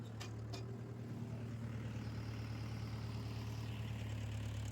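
A tractor engine idles steadily with a low, even rumble and a constant hum, nearby and unbroken, with a couple of brief clicks early on.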